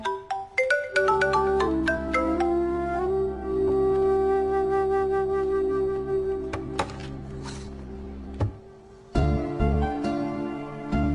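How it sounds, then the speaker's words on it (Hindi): A phone ringtone plays a repeating melodic tune, loud and close, running almost continuously with a brief pause before starting again. "फोन तो उठा ले।"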